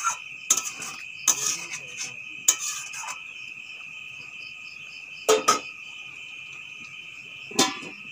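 A utensil stirs potatoes and soybeans frying in a covered pan, with several clattering scrapes and knocks against the metal in bursts, over a steady high insect-like chirring background.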